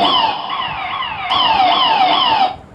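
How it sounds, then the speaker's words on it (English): Abandon alarm on a DCS plant control simulator: a loud, repeating electronic wail of falling sweeps, continuous for about two and a half seconds, heard alone with no talk. "we can operate a function such as the abandon alarm"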